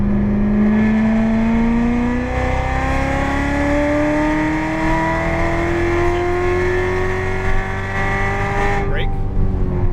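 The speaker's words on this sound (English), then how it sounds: "Squeeze that throttle out to the left." A Corvette Z06 accelerates hard around the Las Vegas Motor Speedway track, its engine note climbing steadily in one long loud pull, heard from inside the car with a brief shift near the end.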